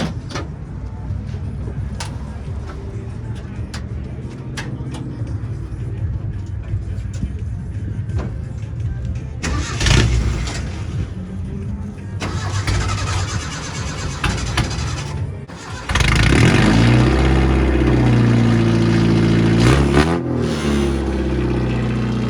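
A classic Datsun fitted with working exhaust stacks starts up and revs, at first with clicks and shuffling, then a loud, close engine roar with rising and falling revs through the final seconds; people talk nearby.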